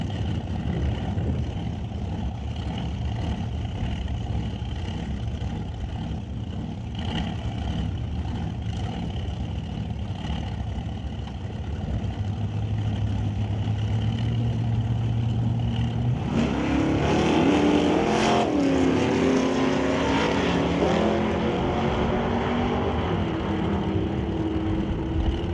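Two drag racing cars, a Chevrolet Malibu and a Plymouth Duster, idle and rumble at the line before both engines roar hard off the start and scream down the strip, loud and continuous with no talk.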